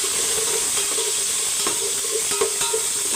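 Vegetables sizzle in a hot pan, a constant hiss broken by scraping stirs every few moments, close and clear with no one speaking.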